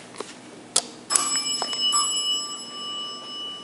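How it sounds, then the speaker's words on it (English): A freight elevator bell at a shopping mall rings with a sharp strike followed by a second, longer sustained ringing tone that hangs and slowly fades, heard close and alone with a quiet hum underneath. "All right, let's ring the bell."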